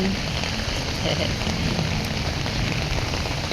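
Steady heavy rain pouring down on a flooded street while walking, a dense continuous hiss of drops on water and surfaces, loud and close throughout.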